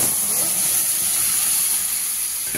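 Mustard seeds sizzle in hot oil as a tempering for chalta chutney, giving a loud, steady, close hiss that holds evenly for the whole moment.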